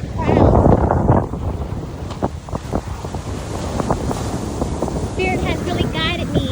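Wind buffets the microphone at the seashore, with gusty rushing and surf in the background while a person speaks over it.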